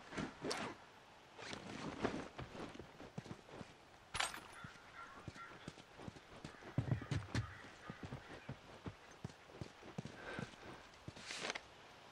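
Horse hooves clip-clop at a steady walking pace in the video game The Last of Us, a clear rhythmic series of hoofbeats with occasional louder steps and no talk over them.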